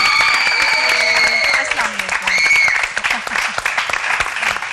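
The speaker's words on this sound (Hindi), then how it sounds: "प्लीज सब खड़े होकर इनको वेलकम कीजिए तालियों में।" A standing studio audience at a Ramzan iftar transmission applauds to welcome Bushra Ansari, loud sustained clapping with tonal music or cheering lines running over it for the whole stretch.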